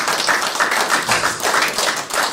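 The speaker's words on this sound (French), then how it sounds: "Je demande d'applaudir comme les candidats" An audience at a political gathering applauds the candidates, a steady patter of clapping at moderate volume with rhythmic surges, no talk over it.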